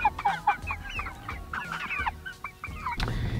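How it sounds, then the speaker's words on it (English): Cornish cross meat chickens cluck and chatter in a busy cluster of close, overlapping calls, ending with a soft thump and rustle, with no talk. "these Cornish cross chickens are bred, they are meant to eat, and they are meant to be put in our freezer"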